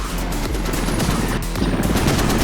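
Rapid gunfire in the military shooter game Squad, with dense overlapping shots and bursts rattling continuously and loudly throughout, a short crash-like hit near the middle.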